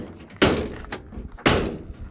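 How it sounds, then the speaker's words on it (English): Two sharp, loud door slams on a 1919 Chevy, about a second apart, each a hard broadband impact with a brief metallic ring fading out, set against a low background hum with a fainter knock between them. "Slam this door."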